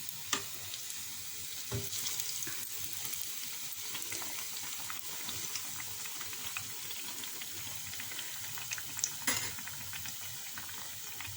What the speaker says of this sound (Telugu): వేగినాయి కొంచెం వేగాలి ఇవి వేగిపోయినాయి